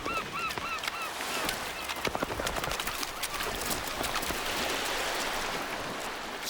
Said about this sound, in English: Greater blackback gulls and herring gulls capitalize on this breeding frenzy.